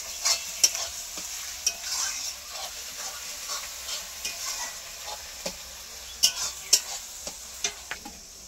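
Garlic fries gently in oil in a home kitchen, giving a soft continuous sizzle with scattered sharp ticks and occasional scraping stirs, moderately close and fairly quiet.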